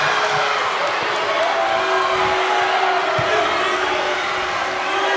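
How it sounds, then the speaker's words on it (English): A steady, loud roar of crowd noise at a women's college basketball game between the NU Lady Miners and Sacramento Dragons follows an offensive foul call. It persists throughout with a few faint thumps and a voice talking over it. "You hear the crowd reaction to that charge."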